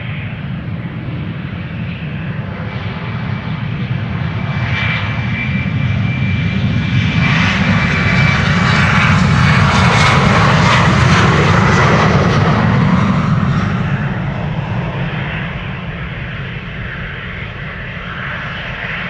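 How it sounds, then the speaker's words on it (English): A KLM airliner on flight 1801 to Düsseldorf takes off from Amsterdam Schiphol, its jet engines building into a loud, sustained roar that peaks midway and then slowly recedes, with no voices. "KLM flight 1801 to Düsseldorf, lined up, ready to go"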